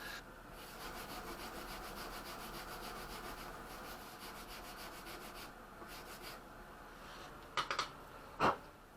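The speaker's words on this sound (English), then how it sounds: "we'll finish up the shaping with the sanding block" Steady rasping strokes of a sanding block shaping a wooden model-aircraft kit, soft and continuous, ending with a couple of brief knocks.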